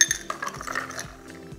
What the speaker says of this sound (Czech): A přidám trošku ledu.